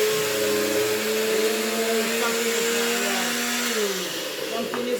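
A kitchen blender runs steadily on dumpling ingredients, a loud continuous whirring drone whose pitch dips slightly near the end as the load shifts.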